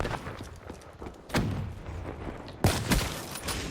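Gunfire in the video game Black Ops 3: a couple of sharp, booming shot bursts stand out over a busy background of game noise, with no clear talk.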